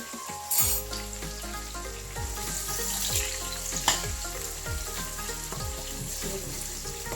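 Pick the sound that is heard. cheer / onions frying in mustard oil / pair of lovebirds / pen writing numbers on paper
onions frying in mustard oil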